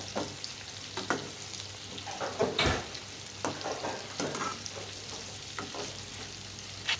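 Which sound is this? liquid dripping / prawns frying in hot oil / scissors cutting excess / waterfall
prawns frying in hot oil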